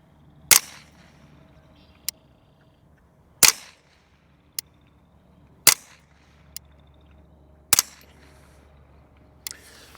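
Rifle shots fired through a Vector Optics Continental 3-18x scope at an outdoor range: four loud, sharp cracks spaced a few seconds apart, each followed by a fainter distant impact report, with quiet gaps between.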